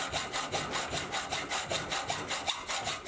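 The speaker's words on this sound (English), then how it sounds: "I'll cut most of it away using the hacksaw" A hacksaw cuts through the excess stick-out of a machined part for a mini lathe tailstock upgrade, steady back-and-forth strokes in an even rhythm, close and moderately loud with no talk.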